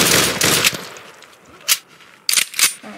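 Short bursts of automatic machine gun fire in a World War 1 shooter game, a long rattling burst at the start, then a single sharp shot and a quick double burst near the end, loud and close with no talk.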